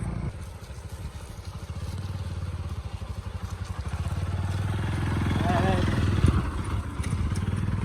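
A motorbike engine runs close by at a steady, throbbing mid-pitched beat, swelling slightly louder toward the end, with faint voices underneath.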